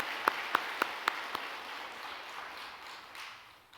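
A church congregation applauds the choir after Sunday worship: a few distinct early claps, then a soft, even wash of group clapping that fades away toward the end.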